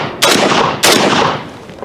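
Two sharp, loud gunshots about half a second apart ring out from a vintage 1911A1 pistol or AK-47 rifle fitted with Magpul furniture, each blast followed by a long echoing decay outdoors, with no talking.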